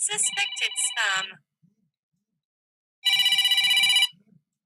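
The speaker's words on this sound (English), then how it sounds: "I've got a suspected spam phone call, which I'm just ignoring." A phone rings with an incoming suspected spam call, a bright electronic ringtone in two bursts separated by a short silence, with a faint low pulsing tone beneath each burst.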